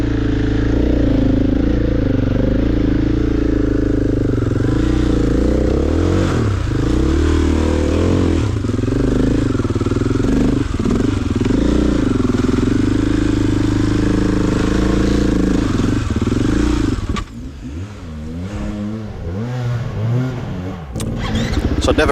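Loud, close engine drone of a 501 motorcycle ridden on wet, greasy, cold lanes with traction control on, revs rising and falling steadily throughout, with clatter and a brief dip near the end.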